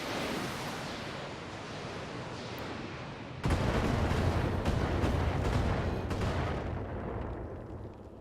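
A mech's weapon volley pounds a turret in the BattleTech video game, a continuous heavy rumble that surges sharply louder midway with crackling explosive bursts, then slowly eases off.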